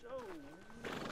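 A horse whinnies in a rising then falling neigh in Red Dead Redemption 2, fairly close and loud, followed by faint hoof clatter and ambient game noise.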